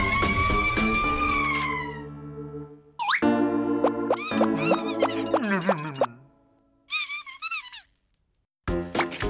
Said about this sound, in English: Then the ant came to the rescue in an ambulance.